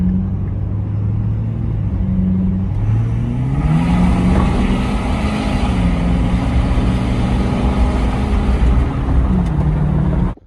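A loud Ford F250 6.7 diesel pickup engine with aftermarket intercooler piping drones steadily up close, its pitch rising and falling as it revs, with a deep rumble throughout and a sudden cutoff at the end.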